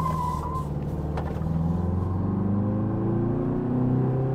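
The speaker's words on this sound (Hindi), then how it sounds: "सडन एक्सलेशन कर रहे हैं तो आवाज़ आएगी अंदर, दहाड़ता है ये इंजन" A Tata SUV engine roars under sudden acceleration on hilly roads, heard from inside the cabin. A loud, close drone rises steadily in pitch as the revs climb, with no talking.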